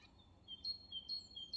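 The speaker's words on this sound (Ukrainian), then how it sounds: "Спів пташок." Birds sing at the edge of a countryside forest near a rural house in Stryzhavka, a few thin high chirps repeating at a distance over a faint low hum.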